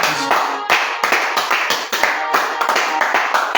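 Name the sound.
congregation clapping and acclaiming in prayer service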